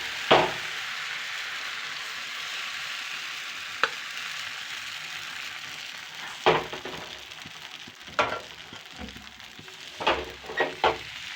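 Vegetable rice dosa batter frying on an oiled pan, a soft steady sizzle with scattered sharp clinks and scrapes of a utensil against the pan.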